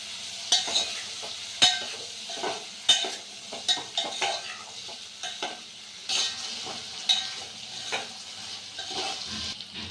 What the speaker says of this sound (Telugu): ముందుగా ఉడకబెట్టుకున్న ఇప్పుడు గోకరకాయలనే యాడ్ చేసుకుంటున్నాను ఆయిల్లో మధ్యలో కలుపుకోవాలి